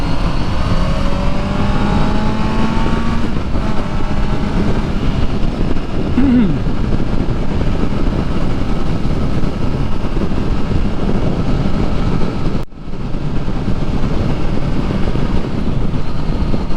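A Kawasaki Z900 motorcycle ridden in rain mode, its engine droning continuously with rising and falling revs and rushing wind noise, close and loud throughout.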